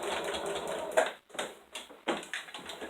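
A sewing machine slowly stitches across the thick part of a fabric draft stopper in short rattling bursts separated by brief pauses, close and fairly quiet.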